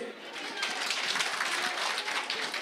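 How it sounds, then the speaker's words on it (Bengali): An audience at a cooking challenge show claps for the broadcast crew, a steady wash of applause that stays even for a couple of seconds with voices faintly mixed in. "তাদের জন্য একটা হাততালি প্লিজ"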